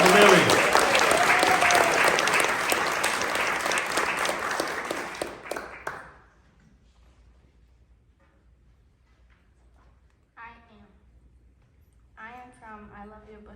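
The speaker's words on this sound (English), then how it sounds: "Clap it up for Lily." Audience applause at a literary competition awards ceremony, loud sustained clapping for about six seconds before fading out, then quiet room tone and a speaker's voice beginning.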